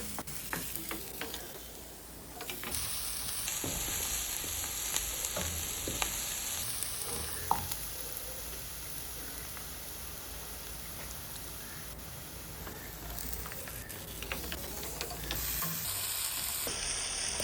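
Chopped tomatoes go into a hot pan and sauté for an egg snack, giving a continuous soft sizzle with occasional stirring scrapes at low volume and no voices.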